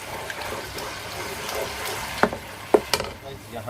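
Onions frying in a pan as garlic ginger paste goes in, a steady soft sizzle with a few sharp stirring clicks and clatters toward the end, close by, no talking.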